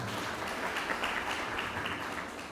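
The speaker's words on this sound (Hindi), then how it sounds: "एक बार जोरदार तालियां दोबारा बजाएंगे।" Audience applause at a Brahma Kumaris birthday and Raksha Bandhan celebration, a sustained wash of many hands clapping at moderate level, fading slightly toward the end.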